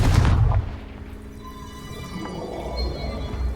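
A Confringo fire spell in Hogwarts Legacy lands with a heavy, close boom, then a rumbling, crackling decay that trails off over a few seconds.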